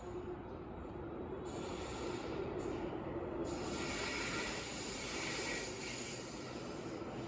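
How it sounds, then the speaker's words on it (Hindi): A Delhi Metro train approaches a station platform, a steady loud rumble with rising rail hiss and screech as it draws near, continuous throughout. "मुझे साफ दिख रहा है कि मेरी मेट्रो आ रही है।"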